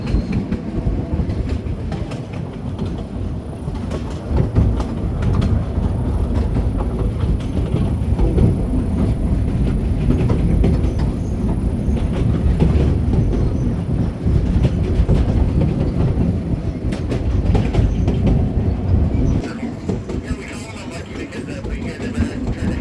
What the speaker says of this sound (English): I mean, typical, it's a coal train.